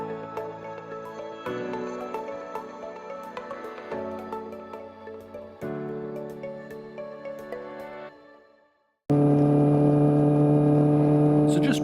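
Suzuki GSX650F motorcycle engine humming on a highway ride, holding steady tones that shift with each gear change, then dropping away before a sudden loud, sustained drone returns.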